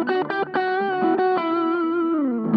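A guitar run through a Tubescreamer-type overdrive pedal, sounding as a few picked notes and then a sustained, gently bending overdriven tone, with no voices.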